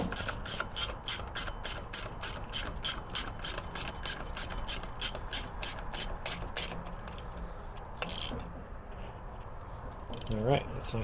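Parts being screwed down and tightened on an old WW2 O'Keefe and Merritt E-3 generator, a fast, regular series of close, crisp ratcheting clicks followed by a pause, a short burst and a few more clicks.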